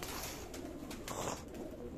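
Pigeons coo softly around a spot where grain has been scattered for them outdoors after a night of rain, their faint calls sitting under a steady wash of background noise with no voices.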